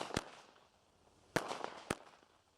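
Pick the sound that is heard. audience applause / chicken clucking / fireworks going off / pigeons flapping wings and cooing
fireworks going off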